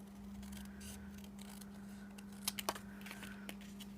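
Scissors cutting card paper along straight edges, a few quiet close crisp snips clustered near the end over a faint steady hum.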